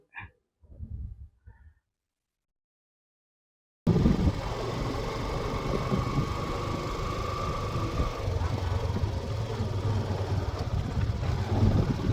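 A two-wheeler engine running steadily and close after a brief quiet start, a continuous loud rumble with wind noise as the bike is turned around on the way to a weaving shed.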